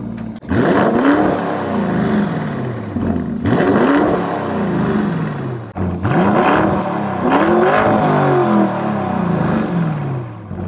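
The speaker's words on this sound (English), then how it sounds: "So this car comes stock with the Akrapovic exhaust" Lamborghini Urus Performante with a stock Akrapovic exhaust, parked and revved in three loud repeated bursts, each climbing sharply then dropping back to idle, close to the microphone.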